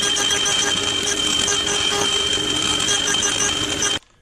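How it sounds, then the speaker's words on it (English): A power saw, likely a bandsaw, cutting small pieces of maple: a loud steady whine with a high ringing tone that holds for about four seconds and then stops abruptly. "So we can now cut the bits of maple for all of the ones in this pattern."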